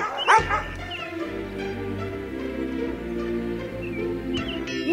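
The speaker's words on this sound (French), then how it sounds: "Malgré la bagarre féroce avec les chiens de berger" Shepherd dogs yelp, bark and whine in a scuffle with a wolf, a burst of sharp barks at the start giving way to whimpering and yips at moderate distance.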